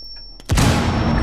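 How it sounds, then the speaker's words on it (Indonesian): Grenade exploding in the game Rainbow Six Siege: a quiet moment with a faint tone, then one sudden loud boom that rolls into a sustained rumbling blast wash. "Granat."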